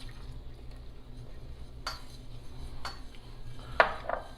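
Flour being stirred into melted butter in a pan for a roux, quiet scraping of a utensil against the pan with a few soft clinks, close and faint, no talking.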